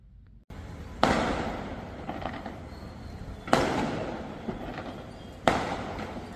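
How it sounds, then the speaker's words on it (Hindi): Fireworks and firecrackers burst in three sharp loud blasts, spaced about two seconds apart, each trailing into crackling noise and echo across an open riverside setting. "अब इस आतिशबाजी का मतलब तो जाहिर है, कोई खुशखबरी होती है तभी तो पटाखे छूटते हैं, आतिशबाजी बजती है।"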